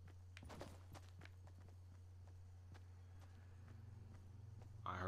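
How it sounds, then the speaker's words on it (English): Footsteps in Fortnite, a run of faint, evenly spaced soft thuds over a constant low hum, with a brief louder burst of noise at the end. "I heard footsteps."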